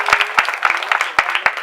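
At a live cooking throwdown event, a small audience gives scattered applause: a handful of distinct, irregular claps, close and crisp, with gaps between them.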